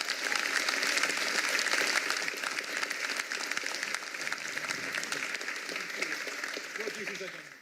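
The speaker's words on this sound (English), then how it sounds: "Can we have a huge round of applause for the panel?" A conference audience applauds a panel at a developer summit, producing a sustained wash of clapping that is loudest at first and then thins out gradually.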